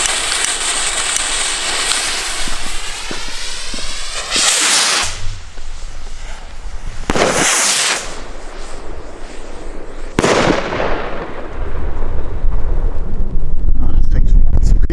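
Gold firework rockets, dark gold and bright gold, launch outdoors on a windy evening, giving three sharp bursts that each crackle and fade into a hissing shimmer. Voices murmur between the blasts.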